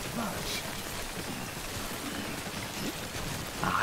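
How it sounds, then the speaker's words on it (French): Rain falls steadily in the video game Death Stranding, a faint, even hiss of drops that runs without a break through the short stretch. "Arrête de pleuvoir, saloperie."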